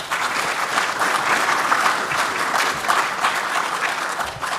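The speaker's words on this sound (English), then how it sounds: "Ladies and gentlemen, please give our panel a round of applause." A conference audience applauds a panel after a session on exploration updates, steady, thick clapping that fills the room without a break for a few seconds.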